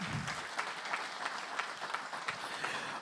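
An audience at a motorcycle road racing launch event claps steadily in a dense, sustained round of applause, fairly close and even throughout.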